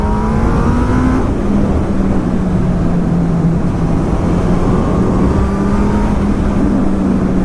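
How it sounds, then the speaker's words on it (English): A loud 2019 Honda CB1000R Plus motorcycle with a Termignoni GP2R exhaust drones and revs steadily throughout, with rising and falling pitch sweeps, close and continuous with no talking. "one loud exhaust is scaring the pigeons away"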